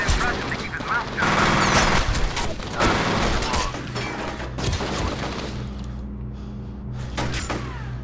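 Gunfire rattles through a firefight in the video game F.E.A.R., with loud bursts and sharp shots arriving in clusters, broken by brief pauses and mechanical clatter, and a lull near the end.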